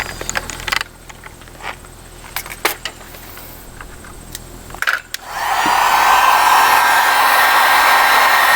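Scattered handling clicks and light taps come first, then a hot air blower starts up close by to heat a car bumper panel for paintless dent repair and keeps up a steady, loud whooshing roar.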